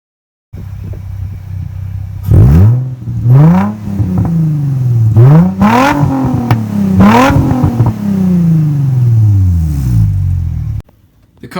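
Straight-pipe exhaust on a Vaydor car on a test drive, revving hard in several loud rising bursts that fall away between blips over a steady low rumble, close and with no talk.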